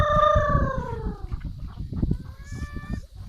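Chickens on a small farm, a clucking, crowing call sliding downward at the start, then scattered clucks and rustling close by, with a faint second crow near the end.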